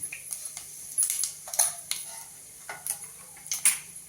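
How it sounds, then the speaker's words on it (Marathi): A tempering of mustard seeds, cumin, asafoetida and turmeric sizzles in oil with a stream of sharp, irregular crackles and pops over a low, soft frying hiss. "मोहरी जिरा हिंग हळदीची फोडणी करायची"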